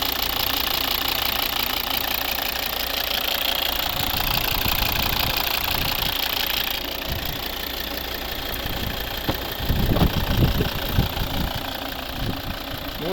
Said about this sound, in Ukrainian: Повністю робота двигуна.